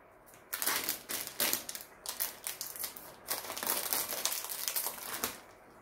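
Plastic packaging holding diamond painting plates is cut and torn open up close, giving a quiet run of crinkling, crackling bursts at an uneven rhythm with no talking.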